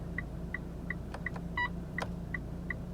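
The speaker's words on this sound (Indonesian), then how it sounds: "Ini kan kita bisa ganti bunyi seinnya ya." Turn-signal indicator of a 2020 Mitsubishi Xpander facelift Sport automatic, first of two selectable tones: evenly spaced ticks repeating about three times per second over a low steady cabin hum, with a couple of fainter clicks in between.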